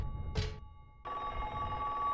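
Telephone ringing in the video game Silent Hill 3: a short electronic ring burst, a pause, then a sustained loud bell-like ring.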